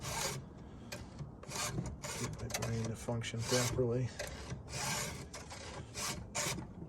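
A file rasps steadily across the chisel teeth of a chainsaw chain being sharpened, with repeated close strokes in a regular rhythm while someone talks briefly over it.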